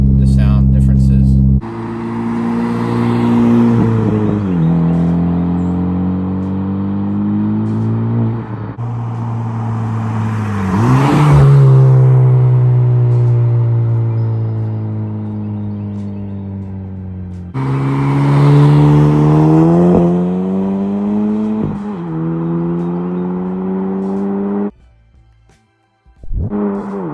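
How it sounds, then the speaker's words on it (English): A Honda Civic Type R fitted with a GReddy DDR exhaust idles close by, then revs several times, each rev swelling to a loud, rising engine roar and falling back, with idle rumble between pulls and a brief cutoff near the end. "I'm going to do like a warm start and a little bit of revs"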